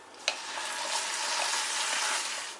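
Ground red chutney for idli and dosa is poured into a hot tempering of asafoetida and curry leaf strips, setting off a loud, steady sizzle and frying hiss after a brief splash at the start, with no talking.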